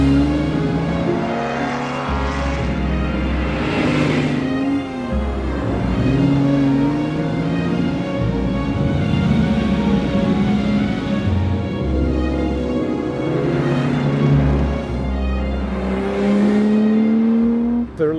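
Ferrari 250 GTO sports car engine roaring steadily as it drives, rising and falling in pitch through gear changes and revving, loud and close throughout with no talk over it.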